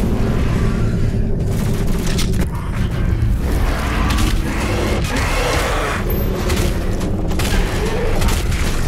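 Gunfire in the Doom Eternal video game, with loud, dense booming shots and heavy impacts in a continuous barrage over a driving backdrop.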